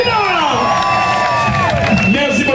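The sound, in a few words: parade crowd applauding and cheering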